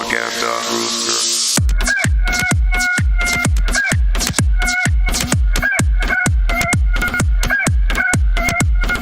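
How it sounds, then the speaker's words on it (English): A rooster crows loudly and close after a brief burst of noise, its call repeating in a steady rhythm against a bright, busy background. "Propaganda rooster."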